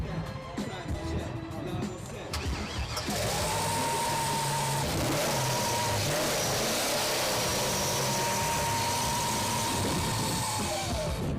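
A car engine starts at a car meet and revs loudly for several seconds, a dense close roar with sustained high whine, while people talk in the background.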